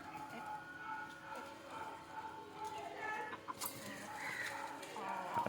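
Several chickens cluck and squawk nearby, growing more agitated toward the end with a sudden scuffling flurry as they fight.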